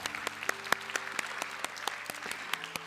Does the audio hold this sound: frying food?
no